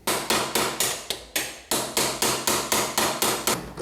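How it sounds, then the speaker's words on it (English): Bolts on a Kawasaki ZX10R lowering plate being tapped out with a hammer: about a dozen sharp metallic strikes in a steady rhythm, loud and close, each ringing briefly before the next. "once you tap them out enough, the first plate will be coming out"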